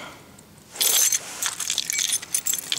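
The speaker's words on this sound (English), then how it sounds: "Put the keys back in my pocket." Car keys jangle and clink sharply as they are stuffed into a pocket, a bright metallic rattle starting abruptly and continuing in uneven bursts, close and fairly loud inside a Malibu Classic.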